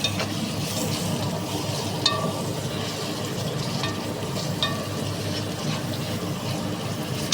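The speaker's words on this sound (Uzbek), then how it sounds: "U bilan birga qovurib olamiz." Vegetables with tomato sauce fry in a pan, giving a dense, constant sizzle close up, with occasional faint clinks and scrapes of stirring.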